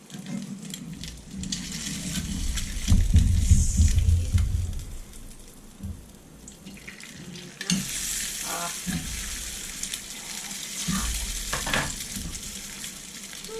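An egg fries in a hot pan after being flipped, a loud crackling sizzle that swells, briefly quiets, then flares up again with scattered pops and scraping.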